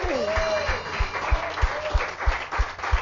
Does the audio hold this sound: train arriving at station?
no